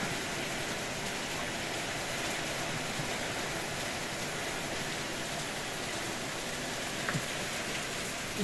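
Steady rain falls on a garden with a small pond and roses, a continuous even hiss of drops with no break in intensity and no voices.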